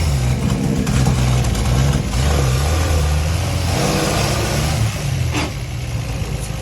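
Step-van truck engine pulling hard through successive gear changes, a loud, close low drone with rising revs that dip at each shift, rumbling continuously throughout with no talk.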